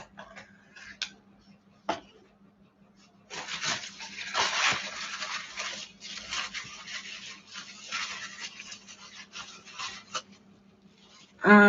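A container gets scrubbed and rubbed clean during a DIY session, giving bursts of rasping friction and brief tapping after a few sharp knocks. It sounds close, with a steady low hum underneath.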